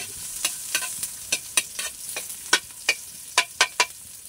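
Ginger and garlic frying in a pan, stirred in quick irregular strokes, each stroke a crisp scrape over a soft, steady sizzle, close up with no speech.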